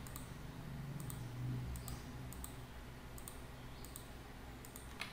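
Sharp, faint computer mouse clicks sound in quick pairs at a steady pace while beams are selected in STAAD Pro structural design software, with a low hum underneath.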